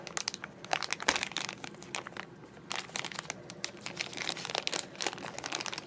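Blind box packaging is cut open with an X-Acto knife. Close, crinkly crackles and sharp rustling bursts come in irregular clusters with brief pauses.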